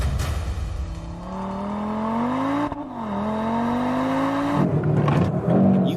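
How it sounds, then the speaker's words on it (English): A 2022 Audi RS3 pulls away under launch control, the engine note climbing steadily through the revs, dipping briefly at a gear change, then rising again, loud and close. "Let's begin with the launch control start with our new launch control traffic light, with its red, yellow and green."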